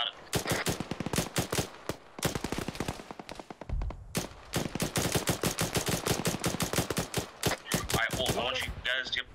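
Sustained automatic rifle and machine-gun fire in an Arma Gulf War mission, rapid loud bursts repeating almost continuously with a brief pause, voices talking over the shooting.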